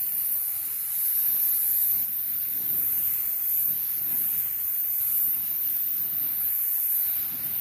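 Steady hissing spray from a paint gun laying another coat of base/clear paint onto a repaired car fender, continuous and close with slight swells in level, no voices.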